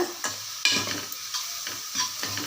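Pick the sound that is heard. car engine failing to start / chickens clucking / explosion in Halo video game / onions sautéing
onions sautéing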